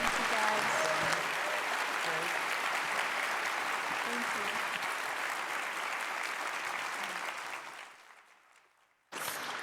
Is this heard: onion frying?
no